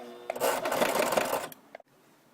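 Sewing machine stitching fabric for a homemade yoga bag, a dense steady whir of rapid needle strokes for about a second and a half, then a couple of short clicks as it stops.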